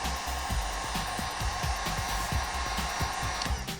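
A heat gun blows steadily on 3rd Gen Toyota 4Runner interior wood trim, a constant airy whir close by, with irregular scraping and tapping against the plastic running underneath.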